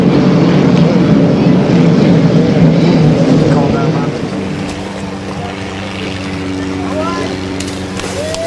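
A loud, roaring racing boat engine passes close by during a race at Brockville, its drone easing as it moves away, with faint whistling tones near the end.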